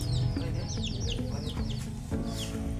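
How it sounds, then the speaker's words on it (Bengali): Native Bangladeshi village chickens cluck and give short calls against a steady, busy rural background. "ছোটগুলো দেশি মুরগির না?"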